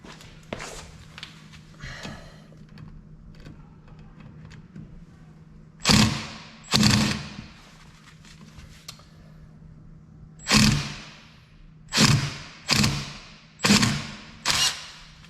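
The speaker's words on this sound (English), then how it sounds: "I'm going to try the impact on this" An impact wrench works on a stuck brake rotor screw in a series of short, loud, close rattling bursts, a pair of them, then a spaced run of several more, separated by quieter handling noise.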